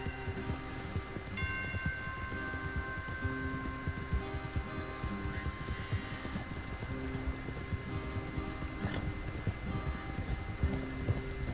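Horse hooves clip-clop steadily in Red Dead Redemption 2, a quiet continuous trotting rhythm over faint ambient game background sound.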